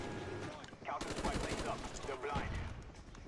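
Rapid gunfire in the Call of Duty Black Ops video game on a jungle map, dense bursts of automatic shots crackling in quick succession, loud and close, with players' voices faintly underneath.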